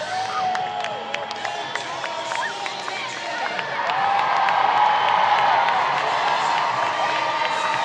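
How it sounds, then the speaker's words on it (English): Loud crowd noise at a Savannah Bananas versus Party Animals baseball game in Fresno, California, with cheering, whoops and scattered clapping that swell noticeably partway through, a raucous stadium ovation with shouts rising over it. "And how about the raucous applause for the school teachers"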